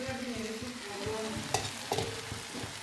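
Boiled soybeans stirred with fenugreek, pepper and other spice powders in a pan, giving a soft steady sizzle under repeated scraping strokes, with a couple of clearer scrapes midway and no talk.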